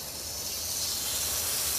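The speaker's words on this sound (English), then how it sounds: "Make sure you got yourself a hot frying pan and start to sear the beef all over." Beef sears in a hot frying pan, a steady bright hiss that swells slightly, close and continuous with no voices.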